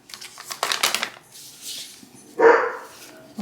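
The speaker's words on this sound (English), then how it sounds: "At least he hasn't got Lincoln and Archie to bark." A dog barks a few times close by, sharp yelps clustered early, then one louder bark near the end, with quiet gaps between.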